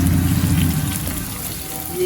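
About three quarters of a glass of water is poured into bhuna chicken curry cooking in a pan, making a steady rushing, splashing pour that stays loud and even.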